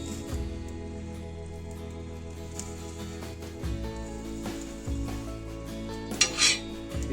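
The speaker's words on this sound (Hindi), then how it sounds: "इसको थोड़ा चलाएंगे।" Garlic cloves, pressed and roasting in a pan, get stirred with a utensil, giving a few clinks and scrapes against the metal over a steady low background hum.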